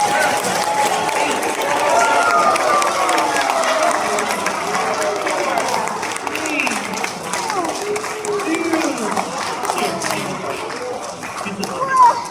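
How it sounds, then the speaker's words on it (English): A crowd cheers and shouts encouragement during a timed bubble-blowing contest at a science show at Brookhaven National Laboratory, a steady, loud roar of mixed voices with scattered clapping that runs the whole stretch. "you guys can cheer them on"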